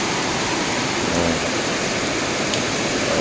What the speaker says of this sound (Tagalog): Tingnan nyo, sobrang lakas ng ulan.